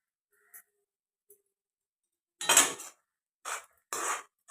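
A spoon scrapes and clatters in a pan while masala kande pohe is mixed, giving a few short, separate metallic scraping strokes with silence in between, faint and close.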